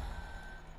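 Four-axle logging truck in Farming Simulator 15 hauling toward a timber loading area, with a steady low engine drone and a faint high tone running through it.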